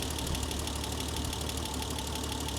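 A BMW 325i engine idles steadily with a low, even churn and faint rhythmic ticking, at a constant, moderate level.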